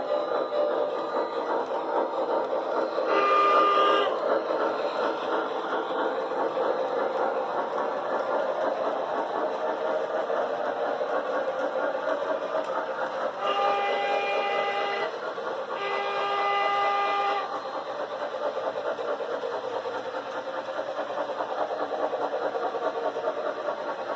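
A model Allegheny steam locomotive with an onboard sound system runs with a steady chuffing rumble, broken by two separate whistle blasts, one short and one longer double blast, heard near and fairly loud.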